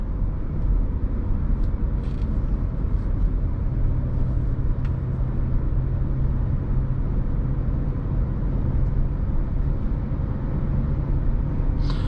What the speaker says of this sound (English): This 4-cylinder engine is so smooth too.